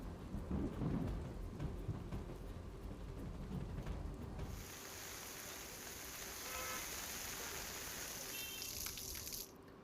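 Heavy rain pours steadily over the countryside of Junagadh district, Gujarat, while a deep roll of thunder rumbles at first, then fades, leaving a constant hiss of rainfall.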